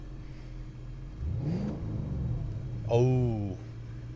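A Mercedes-Benz W219 CLS 55 AMG engine revs up once as the throttle is pressed, a short rising surge over a steady idle rumble, close and fairly loud, with a brief exclamation from a man over it.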